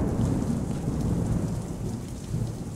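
Steady rain with low rolling thunder in the horror video game The Joy of Creation: Reborn, a continuous loud storm rumble filling the whole moment with no voices.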